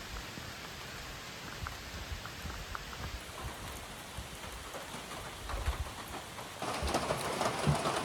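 Rain falling on a hiking trail, a steady hiss of drops pattering on nearby surfaces, growing heavier and louder toward the end, with no voices.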